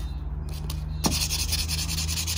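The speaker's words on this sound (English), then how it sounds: "cork block, and starting with the 400 grit." A silver ring is rubbed with 400 grit sandpaper on a cork block, producing close, rapid, rhythmic scratchy strokes that start after a brief quieter moment.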